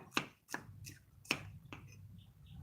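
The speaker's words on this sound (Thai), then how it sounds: "ตอนนี้เราหั่นหอมไว้ก่อนค่ะ" Shallots chopped with a knife on a cutting board for a Thai pan-steamed egg dish: four or five sharp, distinct chops at uneven intervals, close and clear, with no talking.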